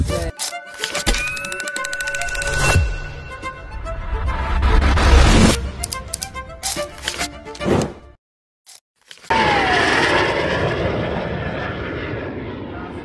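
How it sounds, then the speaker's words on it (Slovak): L-29 Delfín jet aircraft at the Jasná air race show, its engine roaring loudly as it passes close, fading, cutting out briefly, then a second strong rushing pass with a falling whine. "Na úvod priletel delfín, ale dnes do toho veľmi kecať nebudem, lebo tie zvuky motorov stoja za to."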